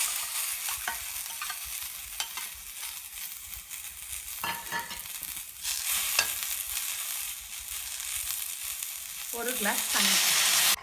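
Ground masala for an egg curry sizzles and fries in a pan, with a steady crackle, occasional scraping stirs of a spoon, and louder sizzling bursts near the end.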